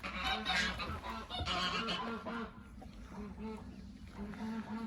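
Geese honk repeatedly at close range in a backyard hobby coop, with a male goose growing irritable; the honks overlap with someone talking.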